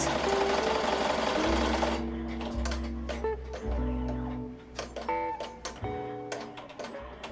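An embroidery machine stitches laces over thick sequins on a hoodie, with rapid mechanical whirring, then uneven clicking and ticking as the needle moves. It is loud and close, with no voices.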